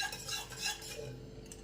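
Soft scraping and stirring of a spoon mashing thick cooked dal in a pot, quiet and close, with no talking.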